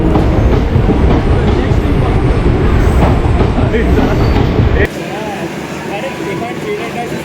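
A packed local train at Kahalgaon station in Bihar roars loudly past with a continuous rattling clatter of wheels, then the noise drops suddenly to a quieter, steadier station hum.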